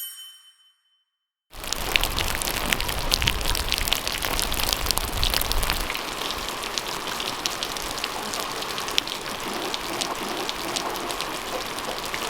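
Steady, heavy rain falls outdoors on a homestead, a dense continuous hiss close by that begins abruptly after a brief moment of near silence and keeps going without pause.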